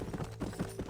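Horse hooves in the game Red Dead Redemption, a soft, close clip-clop of a few steps at a steady trot under a murky background, without any speech.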